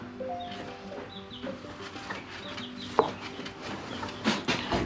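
Mille Fleur chickens on a farm, soft scattered clucks and short chirping calls close by, with a sharp knock at one point and light rustling toward the end.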